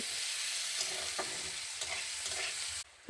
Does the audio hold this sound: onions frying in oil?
yes